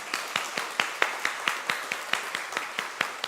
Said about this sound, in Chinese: 我们再一次拍手来欢迎她